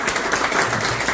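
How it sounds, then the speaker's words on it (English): A brief burst of audience clapping at a real estate coaching event, a short, steady patter of many hands. "I just want to give my team a big round of applause."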